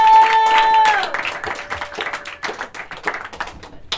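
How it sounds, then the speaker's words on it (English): A comedy show audience claps as a performer is introduced, a tone and voices at the start giving way to scattered, uneven clapping and a few distinct hand claps that fade in and out, moderately close. "Please put your hands together"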